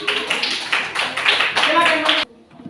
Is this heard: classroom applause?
yes